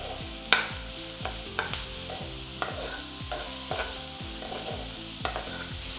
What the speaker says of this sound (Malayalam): എല്ലാം കൂടെ നല്ല പോലെ വഴറ്റി കൊടുക്കുക